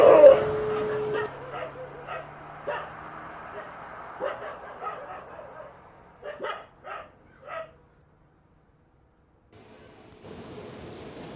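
Dogs bark at night in a Bengali horror cartoon: a string of sharp, separate barks, yips and whimpers at a moderate distance, then a stretch of near silence before a faint hiss returns.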